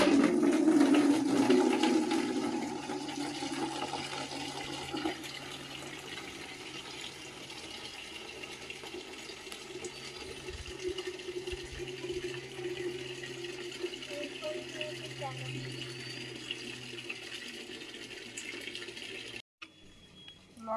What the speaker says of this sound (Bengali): জল একটু বেশি করে নিয়ে নিই।